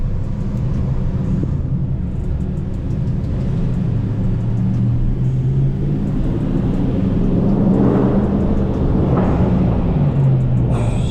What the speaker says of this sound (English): The only thing that's done is the mid muffler delete, and it sounds pretty amazing